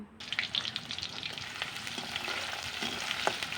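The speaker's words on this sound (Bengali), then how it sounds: "তেলটা গরম হওয়ার পরে কিন্তু পেঁয়াজগুলি দিয়ে দিলাম" Onions drop into hot oil in a wok and fry with a close, continuous sizzle and crackle, with light stirring scrapes and no voices.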